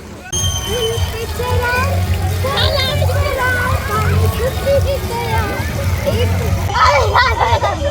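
People splash and slosh in a swimming pool at a Mandarmani seaside resort, with steady churning water close by and excited children's voices and chatter running throughout.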